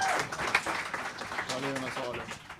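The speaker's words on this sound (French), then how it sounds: "Une bonne main d'applaudissements" Audience applause at a live Christmas comedy show recording, a dense patter of clapping from the crowd, with a voice speaking over the clapping in the second half.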